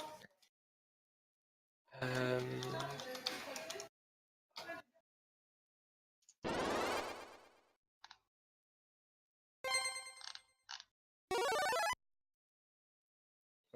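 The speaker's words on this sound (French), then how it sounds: "J'ai un téléphone en combat contre Jevin" A telephone rings during combat in a video game: short electronic ringing bursts, each lasting a second or two, repeat irregularly with silent gaps between them, fairly loud and with no talk.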